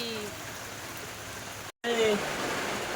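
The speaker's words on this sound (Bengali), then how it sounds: "দেখো বাইরে কি বৃষ্টি" Steady rain falls outside a home kitchen during cooking, a dense even hiss that continues throughout apart from a brief dropout, with talking layered over it.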